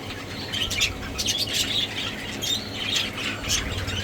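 A pet Texas clear body bird named Tex, kept in a flight area with other birds, gives repeated harsh squawks and chirps at close range, mixed with fainter calls from other birds.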